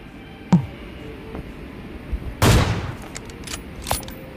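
Sharp bomb-like explosions go off in the open, a few scattered bangs with one heavier, longer blast near the middle, moderately distant over a low background hum.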